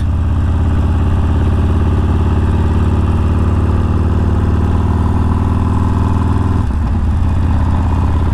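Steady, loud engine drone from a 2020 Harley Davidson 48 motorcycle being ridden, with continuous low rumble and wind, and a brief shift in tone near the end.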